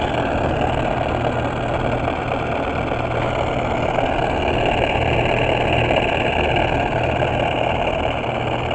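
A vintage Sears Roebuck belt sander runs continuously with a steady motor drone and belt whir, its pulley out of line, close and even throughout with no voice.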